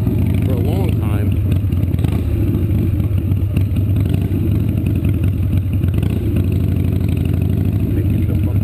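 A Harley air-cooled motorcycle idles close by with a steady low rumble that holds through the whole stretch, while a rider's voice talks over it almost continuously.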